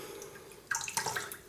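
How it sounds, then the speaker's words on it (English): Sterling shaving brush dipped into water for a straight razor shave, giving a few soft close splashes and drips over a quiet room background. "Put the brush in some water,"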